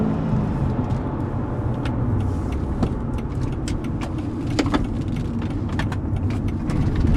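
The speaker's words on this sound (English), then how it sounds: "that V8 is got such a great sound" A 1999 Mercedes-Benz E55 AMG with its V8 engine drives along in a steady, loud, close rumble that stays continuous throughout, with light clicks and road noise on top and no talking.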